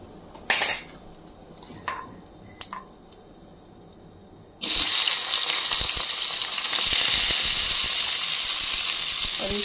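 Cumin seeds hit hot oil at about the midpoint, bursting into a loud, steady sizzle that continues to the end, after a few sharp clinks of utensils against a pan.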